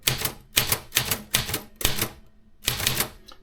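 Keys striking on an Asian typewriter set up with a phonetic Bulgarian layout, six close, loud bursts of rapid clacking separated by short pauses, with a small bell-like ring at the end.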